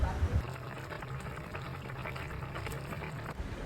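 Spicy chicken noodles boil in a half-covered pot, giving off a steady bubbling and gurgling with a few soft knocks at the start, heard close up.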